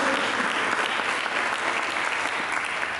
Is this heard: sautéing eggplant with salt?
no